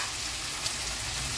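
Mutton fried rice ingredients, including tomato, coriander and mint, fry in a pan, giving a brief, even, close sizzle with no voices.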